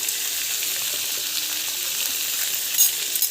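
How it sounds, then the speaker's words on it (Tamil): Onions and green chillies sautéing in a pan, giving a steady, close sizzling hiss that runs without a break, with a few brief stirring clicks near the end. "ஸோ வெங்காயம், பச்சை மிளகாய் 2 போட்டுடலாம்"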